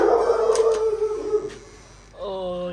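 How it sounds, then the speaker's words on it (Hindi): A dog howls in a long, loud, drawn-out wail, then a few sharp yips, and a second tonal howl rises near the end, close by and outdoors. "कुत्ते ने हमारा स्वागत किया"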